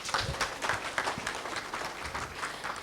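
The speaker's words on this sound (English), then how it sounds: "If you agree, clap as loud as you can." Audience applause at a national HR convention and expo, a steady wash of many hands clapping through the whole moment, fairly even and moderately loud with scattered sharper claps, no talking over it.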